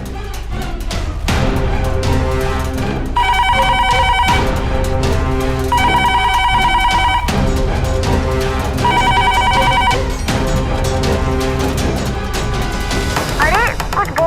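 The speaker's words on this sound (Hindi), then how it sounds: "कौन फोन कर रहा है बार बार?" A telephone bell rings loudly in three repeated bursts, each about a second and a half long, over a busy dramatic music bed.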